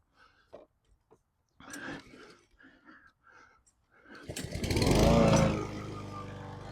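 A Dewalt 196cc self-propelled lawn mower starts up and runs, its engine surging to a loud close roar and then settling to a steady drone after some soft handling noises.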